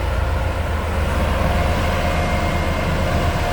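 A BOMAG BW211D-40SL road roller's diesel engine runs steadily up close, a loud continuous low rumble with no talking over it.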